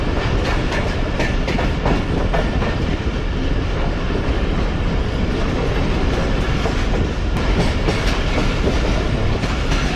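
The Tezgam passenger train rolls through Airport station on the Rahim Yar Khan to Karachi line, a loud, unbroken roar of wheels and carriage rattle with faint rhythmic clacking, heard close up with no voices.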